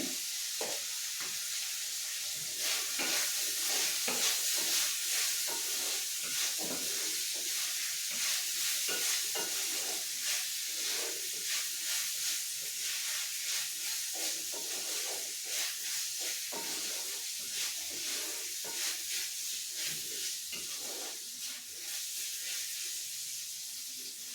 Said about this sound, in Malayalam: അപ്പോൾ ചെറിയ ഉള്ളി ഒന്ന് വഴണ്ട് വരട്ടെ.